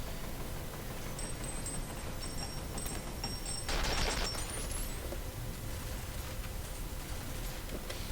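Enemy turrets in the video game F.E.A.R. keep up a steady, moderately loud rattle of gunfire that swells briefly midway, with no voices.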